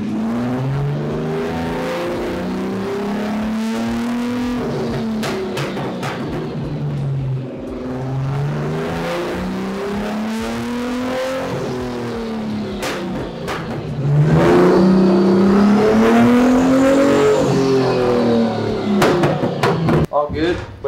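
A GTR-engine-swapped Nissan Z revs on a dyno. Its engine sweeps up and down in several loud, rising and falling pulls, with a harder, brighter rev near the end.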